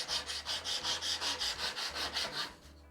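Hand-filing or sanding along the edge of a wooden backplate to cut an even chamfer, a steady back-and-forth rasping of about a dozen strokes, close and moderately loud with no talk.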